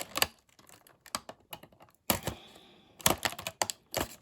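A blade cuts through Marvel Legends action figure packaging in short, sharp, close snips and clicks, irregularly spaced with brief pauses, and no one talking.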